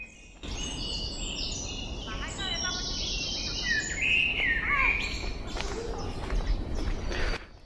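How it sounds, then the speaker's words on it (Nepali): Birds in Richmond Park chirp and trill with bright, varied calls over steady outdoor background noise, fairly close and clearly audible. "चराको चिरबिर चिरबिर अनि हावाको शीतल लहर लहर"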